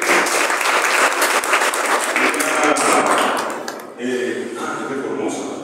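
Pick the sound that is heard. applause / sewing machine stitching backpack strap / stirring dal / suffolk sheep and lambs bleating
applause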